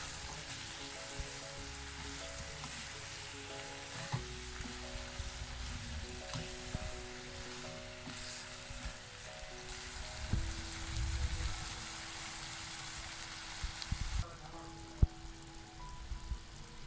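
Tomato chutney is stirred in a hot pan, giving a soft, continuous sizzle with scattered scrapes and light clinks, fairly quiet and without speech.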